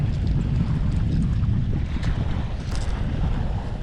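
A steady headwind blows across the water during lure fishing, a loud rumbling gust noise with microphone buffeting that swells and eases slightly over a few seconds, with no talking.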